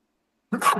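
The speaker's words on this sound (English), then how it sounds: "Hold on, I'm going to sneeze." A person sneezes abruptly after a brief silence, a sudden loud burst with a rough throaty onset, close to the microphone and alone.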